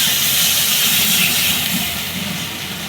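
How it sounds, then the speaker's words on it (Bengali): Water poured into a pan of aubergine frying with garlic sets off a loud, steady rush of hissing steam, close and continuous, easing slightly toward the end. "বেগুনটাকে রসুনের সঙ্গে ভালো করে কষিয়ে নিয়েছি। এবারে দিয়ে দেবো একটু জল।"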